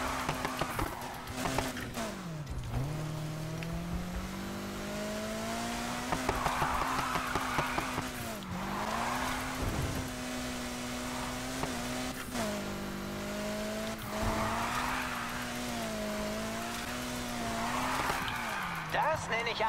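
A car in the racing game Need for Speed Heat drifts through repeated slides, its engine revving and dropping in waves while tires squeal loudly, with someone talking over the action.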